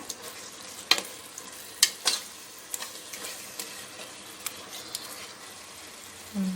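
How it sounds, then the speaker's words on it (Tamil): Yogurt sautés in oil for Karaikudi dum biryani, a soft low sizzle punctuated by scattered spoon taps and scrapes against the pot, fairly quiet and close, no voices. "தயிரை நல்லா எண்ணெயிலே நல்லா வதக்கிக்கணும்"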